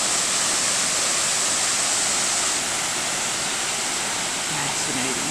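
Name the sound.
water falling and dripping at a waterfall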